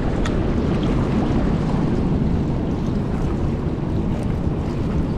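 Strong wind buffets the microphone on a seashore in Mauritius during shore casting for fish, a constant loud roar and rumble with surf-like wash and no voices.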